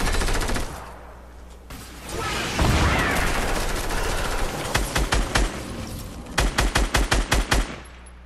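Gunfire in the video game Fortnite: an early volley, then a rumbling stretch, followed by close, loud rhythmic bursts of rapid shots in quick succession.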